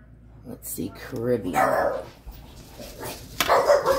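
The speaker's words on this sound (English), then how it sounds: "Sorry about the dogs." Dogs barking and yipping in the background while a person speaks nearby, several short barks scattered through the moment.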